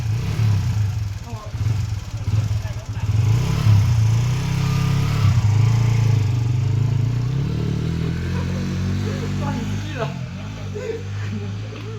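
A motorcycle engine idles low and then pulls away on a road trip toward Dzukou Valley in Nagaland, a steady rumbling drone that builds and fades, with people talking over it.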